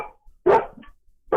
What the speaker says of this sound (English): is this the first time one's barked at me from across the country?